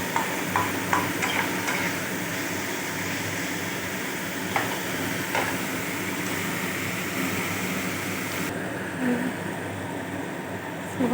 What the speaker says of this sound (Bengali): আমার মশলা ভাজা হচ্ছে